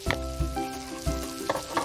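Garlic sizzles steadily in a hot pan for a broccoli garlic sauce, a dense close frying crackle with a few soft bumps of movement.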